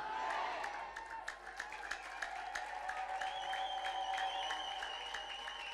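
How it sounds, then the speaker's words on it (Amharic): A church congregation claps steadily and loudly at a prayer service with an Ethiopian prophet, forming a dense, continuous ovation for about six seconds while a held tone rings faintly through it. "አጨብጭቡ ለጌታ ክብር"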